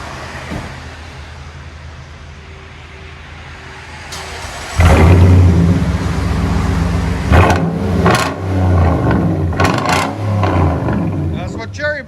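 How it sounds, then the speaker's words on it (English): A 2013 Nissan Titan 5.6L V8 fitted with true dual exhaust and Cherry Bomb Extreme mufflers idles low, then roars loudly as the engine is revved in several strong surges, close by and unaccompanied. "That's what cherry bomb sounds like."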